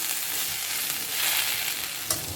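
Vegetables fry in a pan with a steady, moderately loud sizzle, a few light stirring knocks and a small clatter near the end, with no voices.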